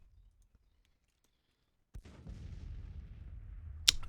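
Artillery fire in a Civil War strategy video game: after near silence, a single deep boom with a rolling rumble, followed by a sharp crack near the end.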